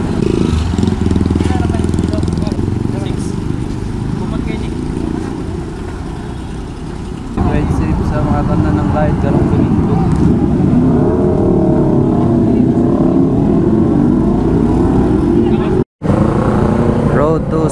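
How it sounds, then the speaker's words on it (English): A 2021 Yamaha NMAX scooter runs along a road on its first break-in ride, its engine droning loud and steady with a brief dip before it picks up again, wind rushing heavily over the sound. "Let's go for a ride. First ride with my NMAX."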